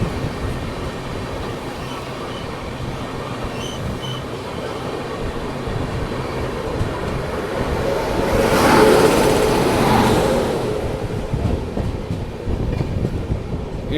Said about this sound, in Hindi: बिहार संपर्क क्रांति ओवरटेकिंग आज़िमाबाद एक्सप्रेस।